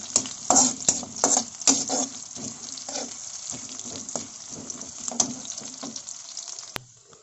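Onion and dried chilli sizzle and fry in a pan, a steady crackle broken by repeated stirring scrapes and spatters up close, with no talk.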